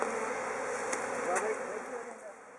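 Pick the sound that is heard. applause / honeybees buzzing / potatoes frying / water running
honeybees buzzing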